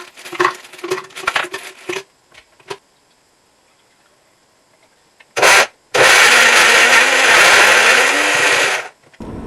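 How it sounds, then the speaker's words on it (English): After a few seconds of a person talking, a kitchen blender making a smoothie gives one short pulse, then a loud, steady whirring spin for about three seconds before cutting off. "I've decided to get my blender out and I'm going to make a nice little smoothie"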